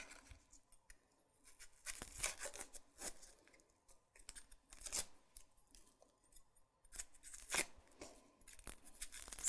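Onion skin being peeled off by hand, with dry papery crackles and short tearing rasps coming in irregular bursts, close and fairly quiet, with no talking.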